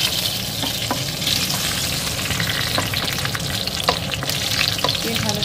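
Whole spices (cloves, cinnamon sticks, green cardamom pods and bay leaves) sizzle in hot white oil for a pulao, giving a steady dense crackle with scattered sharp pops and a utensil stir throughout, close and without speech.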